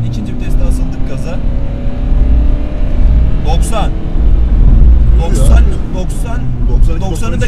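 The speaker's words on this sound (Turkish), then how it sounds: "Şu an ikinci viteste asıldık gaza." A Renault Symbol 1.5 dCi 90 hp diesel accelerates hard in second gear, its engine droning loudly and steadily from inside the cabin while people talk over it.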